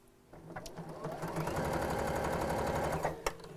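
A sewing machine stitches across the ends of fabric pieces for a drawstring bag, a close, steady rapid whirring run of about three seconds, starting and stopping with a few clicks.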